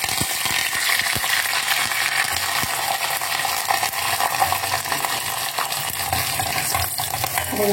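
Curry leaves and garlic fry in oil in a pan, giving a dense, continuous sizzle and crackle, close and fairly loud, with faint stirring clinks throughout and no voices.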